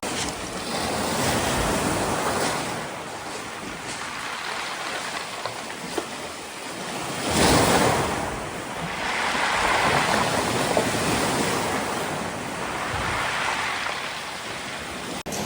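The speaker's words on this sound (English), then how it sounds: "what it's doing is like pulls rocks up a little bit and then rolls them down" Surf washes steadily onto a rocky Newfoundland shore, with rolling surges and a constant gritty rush of tumbling smooth stones, some wind noise mixed in.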